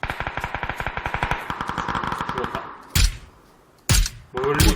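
Rapid automatic gunfire in the battle-royale video game PUBG (Battlegrounds), a long steady burst of evenly spaced shots followed by a few louder, isolated single reports.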